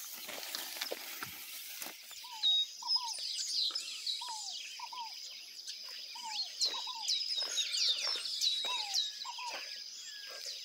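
Songbirds sing and chirp in an open-air aviary on a farm, a repeated short whistled phrase returning in regular pairs over a bed of high twittering and insect-like trills, fairly close and steady.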